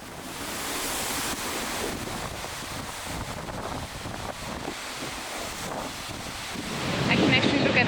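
Waves break against the rugged volcanic coastline of caves and crevices at Los Hervideros, Lanzarote, in a continuous roaring wash mixed with wind buffeting the microphone, with a surge building toward the end.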